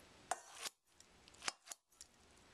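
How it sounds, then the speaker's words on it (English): Scissors snip through cooked, drained glass noodles in a bowl, giving several quiet, crisp clicks and slicing snips spaced irregularly with short pauses, close and alone, with no talking. "I'm just going to run the scissors through it"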